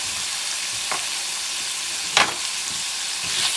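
Carrots frying in a pan with oil and leftover bison juices for a spicy stew, a steady soft sizzle with a few brief stirring scrapes, close and alone.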